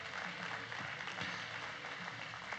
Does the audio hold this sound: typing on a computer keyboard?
no